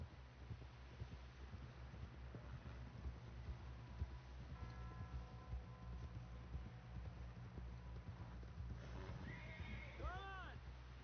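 Horse whinnies and clip-clopping hooves in Red Dead Redemption 2, a steady quiet trot running throughout with a neigh rising near the end, faint speech in the background.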